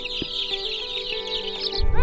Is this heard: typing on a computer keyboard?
no